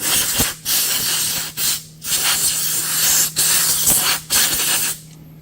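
Repeated bursts of hissing spray from a spray can onto a 2023 Toyota GR Corolla's suspension during a lowering spring install, about five in a row, each under a second or so with short pauses between, loud and close.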